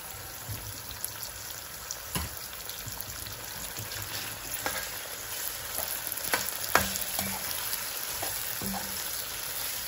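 Beef pieces and onions frying in oil over high heat, a steady close sizzle with scattered pops, spatters and stirring clatters, with no talking.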